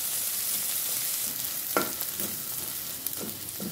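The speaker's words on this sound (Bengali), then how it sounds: "চিংড়িগুলো অ্যাড করে এবার আমি খুব সুন্দর করে এটা লাল লাল করে ভেজে নেব।" Dried shrimp frying with onions in a pan, a steady close sizzle with a few soft stirring scrapes and clicks.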